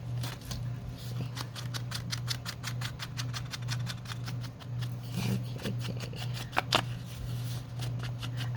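Scissors snip steadily through paper, trimming the uneven edges of junk journal pages, a rapid run of crisp close cuts over a low steady hum.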